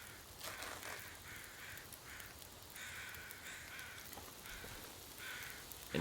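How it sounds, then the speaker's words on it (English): Crows caw repeatedly in The Long Dark, a harsh call recurring in bursts over a steady wind-like ambient background, fairly distant and moderate in level with no voices. "Birds are being very vocal."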